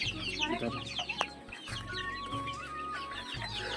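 A chicken clucking repeatedly up close in a poultry shed before its beak is trimmed, with other birds chirping faintly in the background and a low electrical hum.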